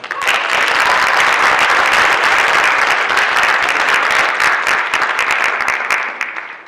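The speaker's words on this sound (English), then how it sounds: "Give her a big applause." Loud, dense applause from an audience at an Arangetram dance performance, continuous clapping swelling quickly and holding before tapering off near the end.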